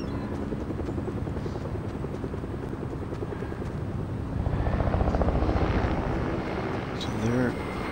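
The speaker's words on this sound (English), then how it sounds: "Helicopter." A helicopter in the video game Fortnite drones steadily with a continuous rotor thrum, swelling slightly louder midway, under a player's intermittent talk.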